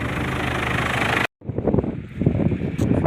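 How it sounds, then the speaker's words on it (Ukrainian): Loud, roaring wind buffeting the microphone, briefly cutting out, then gusting back with rumbling turbulence. "вітер такий. Піднявся."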